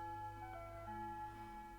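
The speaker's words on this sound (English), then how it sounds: "It's one of those musical clocks." Soft melodic electronic chime from a musical clock, tones sustained and faint against quiet background.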